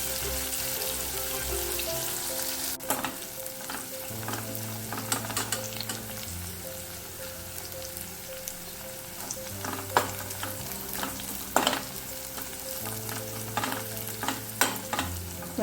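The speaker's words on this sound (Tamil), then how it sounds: "வெங்காயம் நல்லா வதங்கிக்கட்டும்." Onions sautéing in a pan for a Tamil sundaikkai kara kulambu, a steady close sizzle with intermittent scraping and clinking as a spoon stirs them, background hum throughout and no talk.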